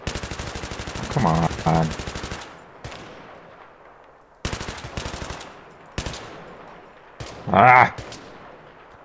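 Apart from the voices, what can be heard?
gunfire from the video game Battlefield 3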